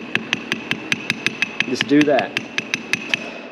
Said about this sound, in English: I've had to take a hammer and kind of tap around it.